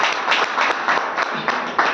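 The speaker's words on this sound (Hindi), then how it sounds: "और एक बार ताली।" Audience applause at an Aastha Life Care silver star award ceremony, a short burst of clapping with distinct rhythmic claps, moderately loud and close.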